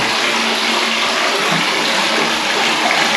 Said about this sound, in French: Donc là, il y a l'eau qui coule, là, chaude.